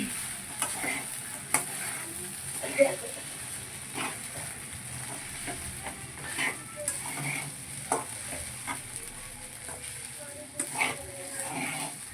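Sabudana khichdi is stirred in a pan with quiet scraping strokes and a gentle sizzle, steady and fairly faint over a low background hiss.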